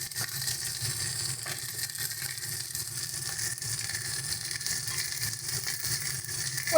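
Green chilli paste and garlic paste, with a little ginger, hit hot oil with golden-fried onion, giving a steady, crackling sizzle that hisses on evenly without pause.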